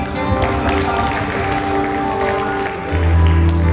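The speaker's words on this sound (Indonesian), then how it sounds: "Mari kita beri tepuk tangan untuknya" A church congregation applauds after a sermon, loud clapping mixed with organ or keyboard tones and some low voices, swelling again toward the end.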